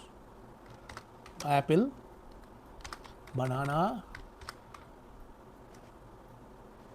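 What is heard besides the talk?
typing on a computer keyboard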